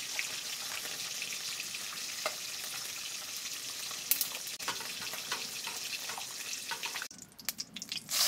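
Climbing perch pieces being rinsed under running water, a steady wet splashing hiss with small drips and sloshes that gets choppier near the end.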